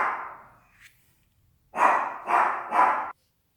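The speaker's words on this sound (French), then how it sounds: "excusez-moi, mon chien aboie" A pet dog barking indoors: three loud, quick barks close together after a soft breathy sound and a short pause.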